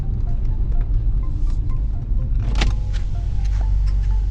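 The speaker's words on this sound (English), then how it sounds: "we are now driving 40 miles an hour and there is no more vibration" Inside a Saab TurboX XWD converted to front-wheel drive with its driveshaft removed and worn rear suspension, cruising at 40 mph: a steady low road rumble and engine drone with wind noise, plus a brief whoosh midway.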